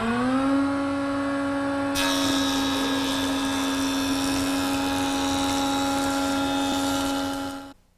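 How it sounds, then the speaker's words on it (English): Wood jointer set to a 1/16 inch cut, running the edges of tabletop boards against a square fence: a steady loud motor whine that rises into a harsher cutting roar when the board feeds in, then cuts off near the end. "Now, I've set my joiner up to cut 1/16 inch depth, and the fence is perpendicular to the table."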